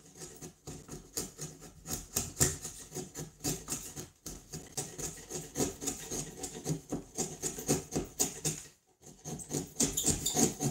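Chisel paring wood while building a saw horse without screws, a close, irregular series of rough scraping and rasping strokes with brief pauses, no talking.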